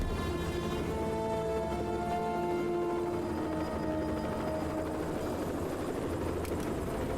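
A helicopter drones loudly and steadily throughout, its rotor thrumming in a constant rumble with a whining engine tone on top.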